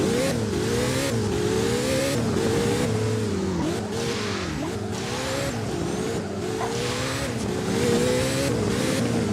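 A Koenigsegg Jesko accelerating in the video game Driving Empire: a loud, close engine climbing through repeated rising revs with distinct gear shifts, a steady roar throughout with faint tire squeal.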